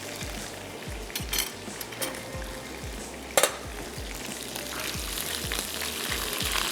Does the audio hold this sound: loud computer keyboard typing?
no